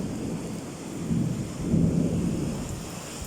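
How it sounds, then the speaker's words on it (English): Steady rain falls with deep rolling thunder swelling in the middle, loud and close, as the storm begins to ease. "rain is starting to slow down"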